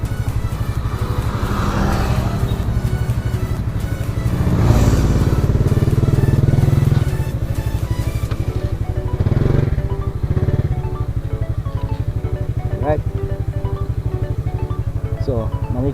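A motorcycle engine runs loudly nearby with a steady low throb, rising into a brief rev partway through before settling back to idle.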